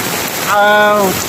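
Steady heavy rain hisses across the whole clip during flooding, with a brief tonal whine rising and falling in the middle.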